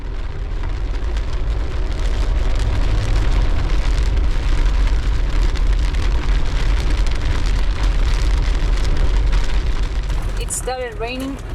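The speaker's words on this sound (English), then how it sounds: "Started raining and there's a chance it would not stop until we come into Malawi." Steady, dense rain pours down outdoors on an East African road trip, a loud continuous hiss and patter, with a short voice near the end.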